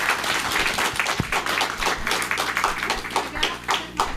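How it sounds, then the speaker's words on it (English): A room of people at a historical society meeting gives a round of applause, dense continuous clapping at moderate volume from the audience. "A big round of applause for Steve."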